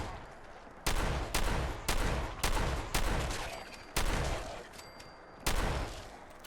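Shotgun blasts in the video game Fallout 4, fired from a basement: about seven loud, heavy booms at irregular one-second intervals, each trailing off with a short decaying echo.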